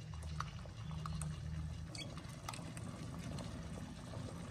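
Green pandan rice-flour batter is pressed through a mold into hot water to make bánh lọt, with steady bubbling and simmering liquid close by and faint clicks throughout, with no speech.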